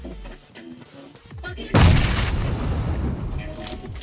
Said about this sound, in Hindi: ग्रेनेड डालो।